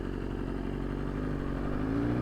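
A BMW S1000RR sport motorcycle engine runs steadily and loud up close, a constant low harmonic drone with a faint rising rev toward the end, no voices over it.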